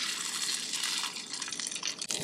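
Trout fry in a hot, smoking pan with butter, a bright, steady sizzle close by with a sharp crackling pop near the end, no speech over it.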